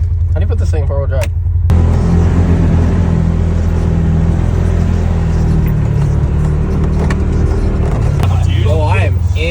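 An OBS Ford F250 pickup in 4-wheel drive pushes through mud, its engine giving a loud, steady low rumble from inside the cab as someone talks over it.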